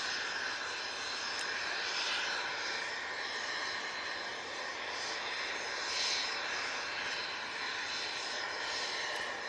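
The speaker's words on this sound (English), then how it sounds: "we've got this Embraer Phenom. It's off to Farnborough" Embraer Phenom business jet at Manchester Airport, a steady loud engine roar and whine with faint swelling, heard continuously at a moderate distance without speech.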